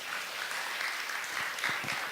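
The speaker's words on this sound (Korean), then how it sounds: "박수 한번 주세요." A church congregation claps together in a brief, steady round of applause, moderately loud with a few sharper claps standing out near the end.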